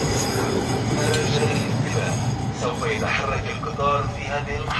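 Rumbling tram interior in Jerusalem approaching a stop, with steady low drone and metallic squeals as it moves, voices talking over the noise.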